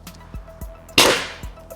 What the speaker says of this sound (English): I'm going to use a 17 millimeter and just try and knock loose the plug